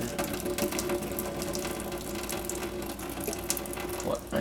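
Cooking water is poured off a pot of rice into a sink as a continuous close splashing trickle, with faint clinks from the pot and lid.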